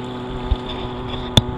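Motorboat engine running at wide open throttle, a steady droning hum with wind buffeting the microphone and a sharp knock near the end; no voices.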